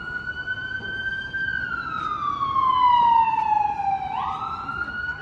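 An ambulance siren wails through city traffic near a hospital, a loud, steady rising-and-falling tone that passes close by with a pitch drop. Traffic rumble sits underneath.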